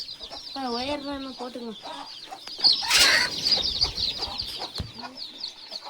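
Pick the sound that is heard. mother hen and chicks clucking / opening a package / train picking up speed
mother hen and chicks clucking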